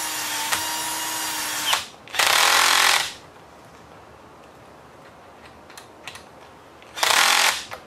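A nut is tightened on an HPI Baja RC car during an electric conversion, with loud bursts of a power driver's whirring ratchet and quieter ticking between them, close and with no talking.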